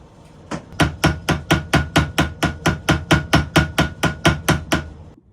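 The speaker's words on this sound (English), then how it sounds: "we're going to be tapping on that little pin right there" A hammer taps the small pivot pin of a vintage pocket knife to stop its blades wobbling: about eighteen sharp, evenly spaced metallic strikes in quick succession, close and loud, with no voices.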